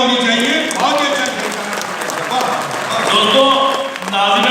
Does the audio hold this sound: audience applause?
yes